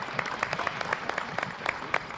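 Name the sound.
audience applause for a judge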